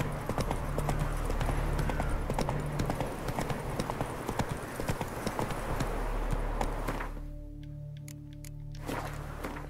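The horse Roach gallops in The Witcher 3, rapid rhythmic hoofbeats close and loud that break off briefly near the end, then resume.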